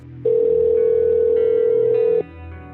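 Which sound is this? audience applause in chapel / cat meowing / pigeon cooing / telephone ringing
telephone ringing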